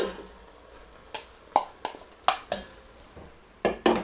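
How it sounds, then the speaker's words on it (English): Chopped onions tossed into a hot pot of browned beef for Flemish beef and beer stew, landing in several sharp clattering knocks and scrapes against the metal, spaced irregularly and close up. "toss in all the onions"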